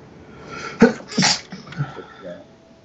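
A single short sneeze, fairly close and moderately loud, against a quiet background during a livestream.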